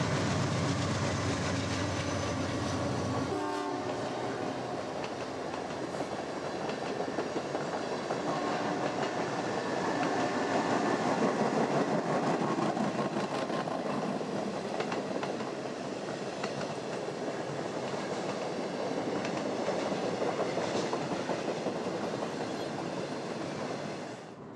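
A passenger train hauled by a trio of General Electric Genesis locomotives rolls steadily past on Union Pacific's Moffat Line, a continuous rumble with rhythmic wheel clatter that holds fairly constant for the whole stretch.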